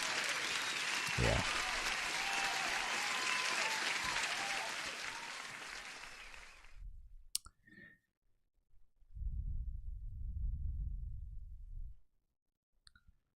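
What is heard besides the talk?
applause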